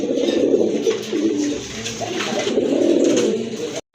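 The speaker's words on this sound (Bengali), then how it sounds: "এটা হচ্ছে আপনার একটা নর কবুতর, গররা কালার কোয়ালিটি, গররা কবুতর" A male Gorra-coloured pigeon coos close up in a steady, throaty rolling stream of repeated coos that runs for several seconds with no one speaking.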